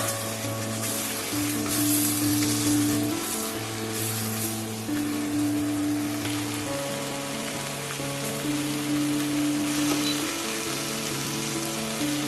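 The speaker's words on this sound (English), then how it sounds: "this gravy has to be stirred around from time to time and cooked on low heat" A malai egg gravy cooking on low heat in a wok gives a steady, close sizzle with soft scraping as it is stirred, continuous and fairly loud throughout with a low hum underneath.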